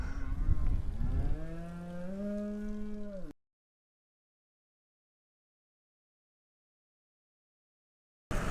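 Cattle on a sheep farm give a single long, loud, close moo with a deep rising tone lasting a few seconds, then silence, with no talking.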